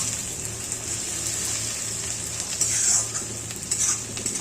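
Onions fry in a pan for a Bihari-style chicken masala, giving a steady soft sizzle with occasional scraping stirs of a spoon against the pan, close and fairly quiet.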